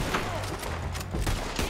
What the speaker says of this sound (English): These people just unloading their clips on you.